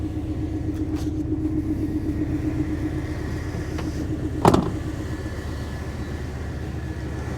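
A V8 engine idles steadily after a cold start, a low, even rumble that continues throughout, with a brief sharp clunk partway through and no talk.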